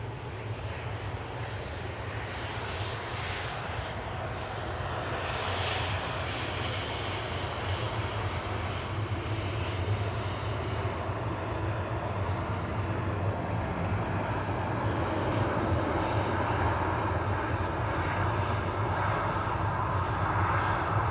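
Arriving airliner in from London Heathrow at Manchester Airport, a steady loud jet engine roar holding for the whole stretch and swelling slightly toward the end, with no voices over it.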